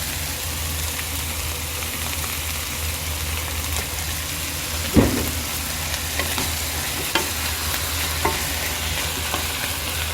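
Chicken pastil filling is stirred in a frying pan over a steady sizzle, with a loud scrape and knock near the middle and a few lighter spoon taps after, under a low hum.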